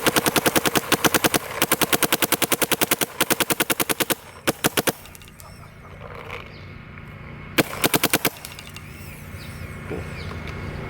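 Two paintball markers, a Shocker AMP and a GEO4, fired dry in rapid bursts: sharp, evenly spaced pops in quick strings, loud and close, with short pauses and isolated final volleys over a low background hum.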